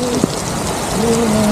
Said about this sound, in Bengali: আবার সামনে বৃষ্টি, দেখো দুরন্ত বেগে বৃষ্টি বৃষ্টি।